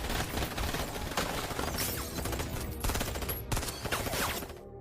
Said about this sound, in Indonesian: mereka pun langsung memberondong Ruby dengan peluru